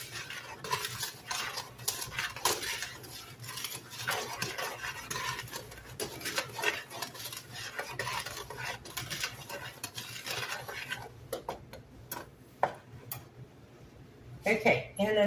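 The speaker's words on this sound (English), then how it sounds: "We're going to whisk all of our dry ingredients together." Dry ingredients for apple bread whisked in a bowl, with rapid, close metallic clinks and scraping in an uneven rhythm, broken by brief pauses, while a person talks over it.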